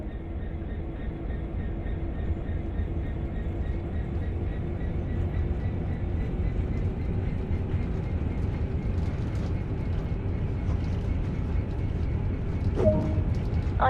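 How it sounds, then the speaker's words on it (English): In the Train Sim World game, a train moves off under power with a steady, even rumble and low engine drone that builds gradually, with a brief metallic clank near the end and no talk. "Now apply some power and get this train moving"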